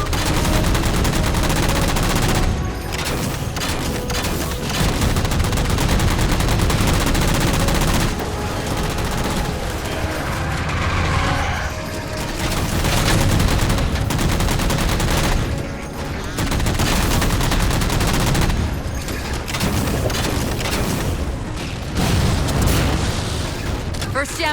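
Gunfire from Halo 4 as jammers are shot down: loud, sustained bursts and booming fire in long stretches with brief pauses, close and dominant, with voices speaking over parts of it.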